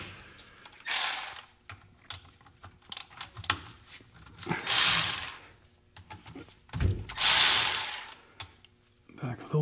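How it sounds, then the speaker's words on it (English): A ratchet clicks in quick bursts while undoing a jam nut and cover bolts on a GTO being prepped for racing, close and loud, with pauses and clanks between runs and a voice speaking at times. "Undo the jam nut."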